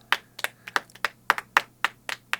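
A few pairs of hands clap in a sparse, uneven rhythm, about a dozen sharp, close claps over a couple of seconds, with no cheering evident.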